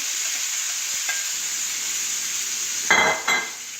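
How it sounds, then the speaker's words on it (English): Finely chopped, thin-sliced meat for a cheesesteak sizzles in a hot pan with a steady, close hiss, and two brief clattering stirs break in near the end. "we chopped up our meat very fine, very thin, and we're going to put that in, and we're going to let that start cooking."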